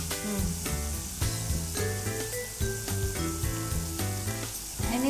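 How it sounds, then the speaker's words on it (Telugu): Green chilli sizzles as it drops into a pan of dal khichdi with ghee, onions, tomato and bay leaf, giving a steady close frying hiss with light stirring. "ఓకే, దీంట్లోకి ఒక పచ్చిమిరపకాయ కూడా వేసేద్దాం లైట్గా."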